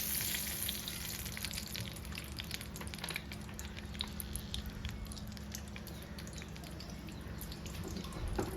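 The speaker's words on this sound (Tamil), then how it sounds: "நான் பொறிக்கிறது மட்டும் அலுமினியத்தில் செய்கிறேன்" Food fries in hot oil in an aluminium pan, a steady close sizzle with crackling pops and patter running throughout.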